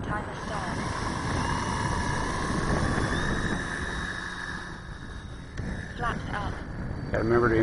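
An Avios Grand Tundra electric RC airplane on a 4S battery flies overhead, producing a steady motor whine that fades slightly midway, with wind noise and brief clicks near the end.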